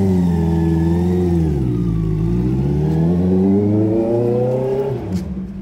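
A motorcycle engine with its exhaust dB killer removed revs loudly and up close, its pitch rising and falling through several throttle swells before easing off.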